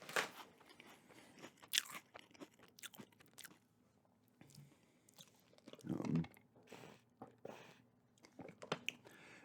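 Munchos potato chips crunched and chewed close to the mic in bursts of crisp bites and softer chewing, with quiet gaps between bites and no talk.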